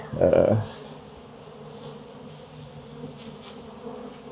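A burst of angry honey bee buzzing swells loudly in the first half-second, then a steady low hum of bees continues faintly throughout.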